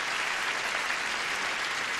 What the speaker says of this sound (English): let's have some polite applause for Josefa Teitel and Ensign Pete Shaner